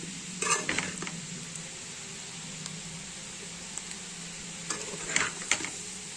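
Coconut potato fry stirred in a pan, a few soft scraping strokes near the start and again near the end over a faint steady sizzle, no talk.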